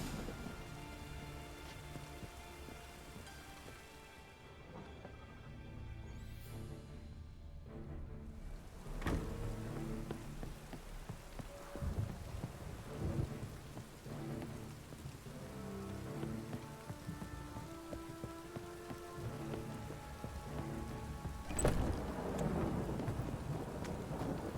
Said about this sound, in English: Rain, I like rain.